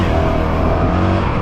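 A stock Honda CRF 450 RL dirt bike engine drones loud and close under steady throttle, a continuous buzzing roar with slight pitch shifts and no talk.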